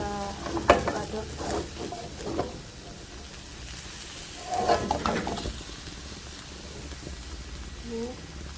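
Shredded boiled beef srundeng stirred and fried in a pan, with a soft sizzle beneath and a few close scraping stirs and clatters, while a person talks over it.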